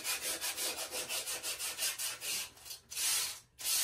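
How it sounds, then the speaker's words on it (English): Sandpaper rubs over drywall in quick, even back-and-forth strokes, close and steady, followed by a few slower, longer passes. "You don't even have to sand too much because this is like a good sandpaper that I have."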